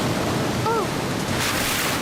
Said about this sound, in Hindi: वाह, झरने के पीछे जगह है।